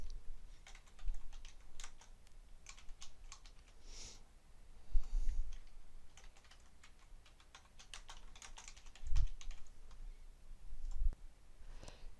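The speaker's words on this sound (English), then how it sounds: "To finish labeling the shapes, click a shape and type the shape label." Computer keyboard typing while labeling shapes in process-mapping software: quiet, irregular clusters of key clicks with short pauses, close up and without talk.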